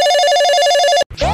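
Loud, close telephone ring on an outgoing call: a rapidly pulsing electronic ring lasting about a second, cut off abruptly, followed by a brief rustle.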